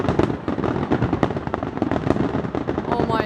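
A fireworks grand finale by Seneca Niagara Casino over Niagara Falls, a dense rapid barrage of crackling bursts and booms stacking on one another, loud and close, with excited voices talking over the volley.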